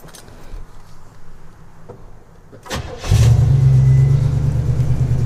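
A fuel-injected 1978 Studebaker Avanti II coupe starts with a turn of the key: a brief cranking burst, then the engine catches and settles into a loud, steady idle rumble close by.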